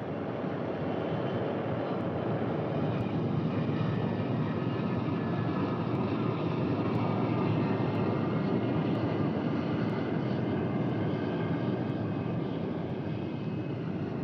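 North American X-15 black research aircraft in flight, a steady, loud, unbroken engine roar that holds level with no talking.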